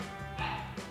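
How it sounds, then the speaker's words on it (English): A dog barks in a short, agitated burst fairly close by, reacting to a neighbor's dog, with a muffled, indoor quality and some background noise. "all you can hear is my dog very upset at the neighbor's dog"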